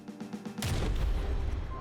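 A kinetic shell fired from a cannon in From the Depths, tested for maximum armor penetration: a single loud, near blast breaks in after quiet mechanical hum and rolls into a heavy, sustained rumble.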